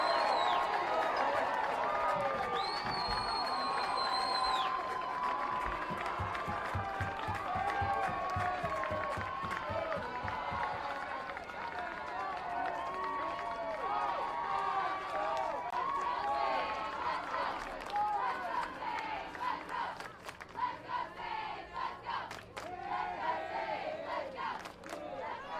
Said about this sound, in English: Homecoming crowd excited here at the stadium.